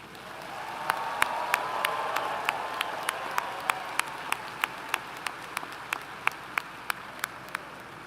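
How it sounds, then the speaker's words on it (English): A large crowd at a university engineering commencement ceremony applauds steadily, dense clapping sustained throughout at moderate volume, with a few louder individual claps standing out. "will you please join me in a round of applause for the new graduates?"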